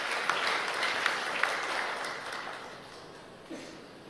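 A church audience claps together after a sermon line, a dense burst of applause that gradually thins and fades over a few seconds.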